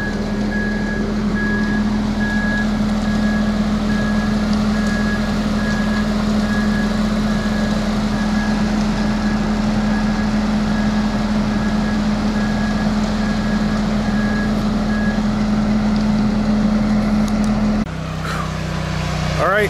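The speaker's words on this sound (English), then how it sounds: "So, there goes the last truck." Heavy concrete trucks at a large pour site rumble steadily with a loud, continuous engine drone, while a repeating reversing beep sounds through most of the stretch before the noise shifts near the end.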